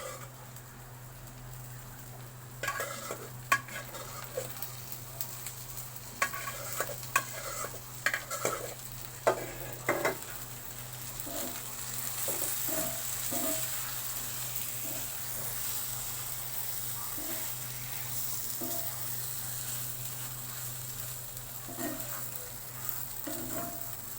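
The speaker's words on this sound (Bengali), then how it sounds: "আমি একটু লাল লাল করে ভেজে নিব" Meat filling for samosa pitha frying in a pan, with scattered scraping stirs and clinks early on, then a low steady sizzle continuing alone at moderate-to-faint level.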